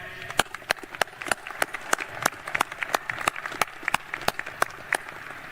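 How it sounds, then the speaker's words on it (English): The audience at the 2025 US Air Force Academy graduation ceremony applauds with distinct, crisp hand claps over a softer background of clapping, lasting several seconds at a steady level. "Please, a round of applause to our guests."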